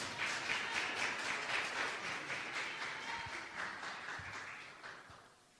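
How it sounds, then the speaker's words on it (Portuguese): A church congregation claps steadily in a broad, rhythmic wash of applause that slowly fades out, heard at a moderate distance with no speech on top. "Palmas que louvam o Senhor,"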